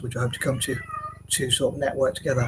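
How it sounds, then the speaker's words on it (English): A cat whines and meows in drawn-out, wavering cries behind someone talking steadily up close, the animal's plaintive calls rising in the pauses between his words. "this cat's so annoying, you can probably hear him in the background making that really whining sound"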